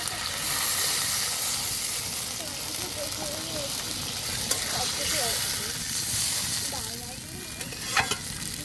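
Water hits a hot pan of rohu fish curry with potatoes, setting off a steady, loud sizzle and hiss that carries on throughout, with some stirring and a few faint clinks underneath.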